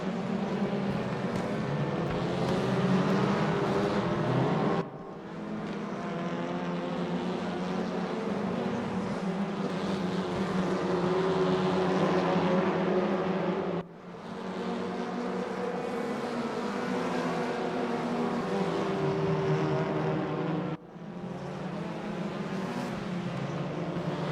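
Race cars in the RaceRoom sim racing game at Brands Hatch, a WTCR league race with a close train of touring cars including an Audi. Steady, loud engine drone that holds continuously and dips briefly a few times as the cars pass or change gear.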